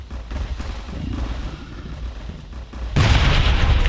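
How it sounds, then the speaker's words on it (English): A grenade explodes in a video game: a sudden, loud, broadband blast breaks near the end over a noisy background of rumbling game ambience, and the roar sustains afterward. "you always throw the grenade right when it sees them"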